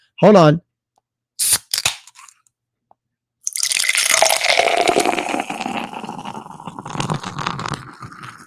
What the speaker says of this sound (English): Pour me some Heineken.